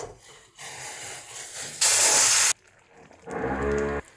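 A loud burst of steam hisses and sizzles as hot water is poured into semolina roasting in a hot pan for mango kesari, followed by bubbling and spluttering.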